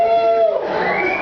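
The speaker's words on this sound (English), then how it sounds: "I love when people like cheer like that" A comedy-show audience at the Emerald Lounge in Portland cheers in a brief burst that includes rising, whoop-like tones.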